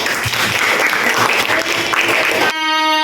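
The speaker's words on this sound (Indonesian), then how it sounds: "kita berikan tepuk tangan." Sustained applause from a crowd, dense and steady, cutting off abruptly near the end into a brief tonal hum.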